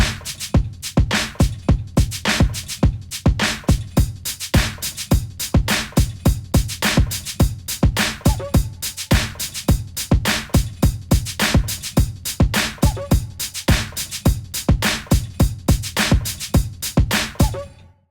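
Boom Chicka drum machine pattern, with kicks and lighter hits repeating in a tight, bouncing loop at an even tempo throughout, loud and without any talk.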